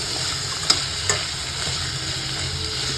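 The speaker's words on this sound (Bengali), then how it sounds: "আলু ভাজা প্রায় হয়ে গেছে" Potatoes and a bay leaf fry in a pan, giving a steady close sizzle with two brief sharp clinks of a stirring utensil partway through; no one speaks.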